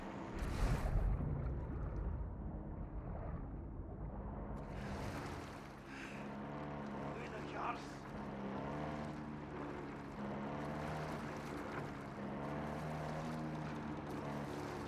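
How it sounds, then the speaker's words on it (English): A patrol boat engine in Call of Duty: Modern Warfare II drones steadily and loudly, a continuous low rumble that swells in after a brief rougher opening and holds for the rest of the stretch, with no talk over it. "So there's a patrol boat that's looking for me."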